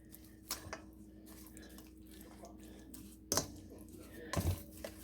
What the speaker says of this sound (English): We're going to mix the wet ingredients up.